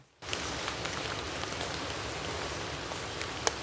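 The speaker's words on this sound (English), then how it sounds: "Then we've got this noise texture, forest rain." Steady synthesized forest-rain noise texture from a lo-fi software instrument: rain hiss begins abruptly and continues evenly, with scattered droplet ticks and patters over a dense wash of noise.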